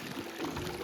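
A Hayward OmniLogic pool pump sucking air, giving a steady watery gurgling and pouring rush that runs unbroken and fairly close for under a second, with no talk.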